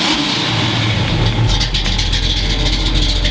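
A 1968 Pontiac Firebird's engine revs up loud and close, the tone climbing steadily and winding higher with no pause or voices over it.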